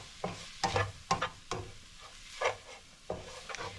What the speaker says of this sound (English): to the meat, I'm going to add the taco seasoning. Get it flavored into the meat a little bit before we add anything else.